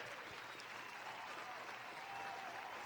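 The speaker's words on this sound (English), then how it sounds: "I didn't know how long this goddamn applause was." Audience applause at a live show, steady dense clapping filling the whole stretch at an even level with faint crowd murmur underneath.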